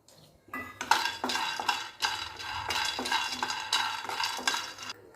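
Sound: roasting peanuts in a kadai on the gas

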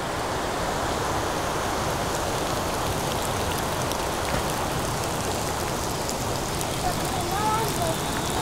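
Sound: heavy rain

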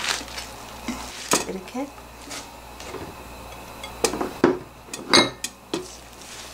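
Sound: knife chopping Korean chives on a cutting board

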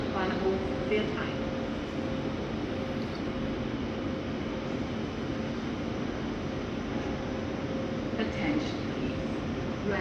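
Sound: express train arriving at Salzburg main station platform

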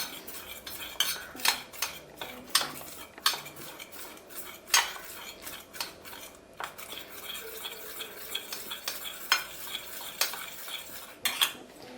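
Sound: spoon mixing cornflour into tomato paste in a bowl

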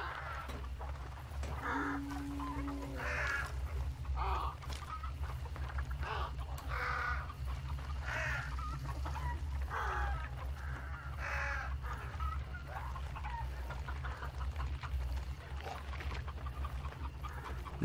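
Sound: chickens clucking in the video game Hunt Showdown

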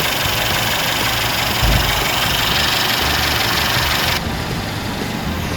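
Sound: 2017 Mercedes-Benz E300 Avantgarde engine idling

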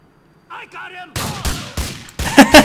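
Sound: gunfire in video game Grand Theft Auto 4

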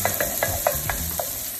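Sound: mushrooms with black pepper cooking in pan

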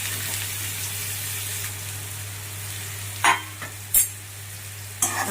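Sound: raw banana pieces frying and stirred in hot oil

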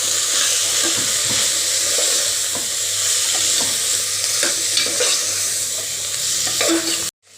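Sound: sautéing coriander and spices in oil for masala khichdi

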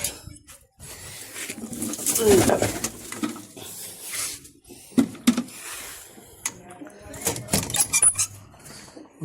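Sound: pigeons cooing

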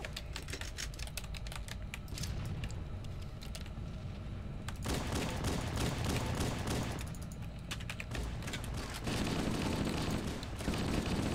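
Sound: friendly gunfire in video game Halo CE

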